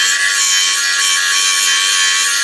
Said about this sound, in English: then I can start rounding off on the belt sander